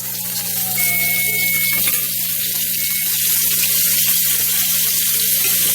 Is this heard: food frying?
yes